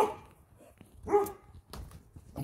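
A dog outdoors in fresh snow gives a few short, separate barks spaced about a second apart, moderately close and fairly loud, with quiet pauses between them.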